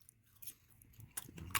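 Someone munches Jolly Time Big Cheez microwave popcorn, heavily coated in cheese, close to the mic, making soft, irregular crisp crunches and chewing sounds that grow a little sharper toward the end, with no talking.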